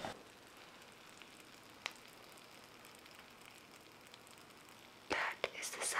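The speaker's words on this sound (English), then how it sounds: "They are nice and bubbly. You can literally hear it bubble." Brussels sprouts topped with Parmesan, just out of the oven, give off a faint, steady sizzling and bubbling hiss that runs the whole time, with a couple of louder crackly bursts near the end.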